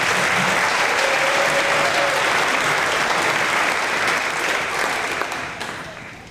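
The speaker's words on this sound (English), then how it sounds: "I want to give her some recognition and an extra round of applause" A school crowd at a fifth-grade promotion event gives sustained applause for the first-place spelling bee winner. The clapping is dense, loud and steady for most of the stretch, then tapers off near the end.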